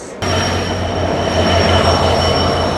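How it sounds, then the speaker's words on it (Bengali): The nonstop Banalata Express, Dhaka to Rajshahi, pulled by an American EMD 6634 diesel locomotive, rolls in with a loud, steady rail roar, a low engine drone and a faint high squeal, close and continuous. "তো চলে আসছে, দেখুন আমাদের রাজশাহীর গর্ব ননস্টপ বনলতা এক্সপ্রেস।"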